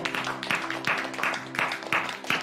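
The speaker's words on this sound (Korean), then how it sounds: "우리 주님을 박수로 찬양하십시다." A church congregation claps in praise, repeated bursts of applause at a roughly regular rhythm over a sustained musical tone, fairly close and moderately loud.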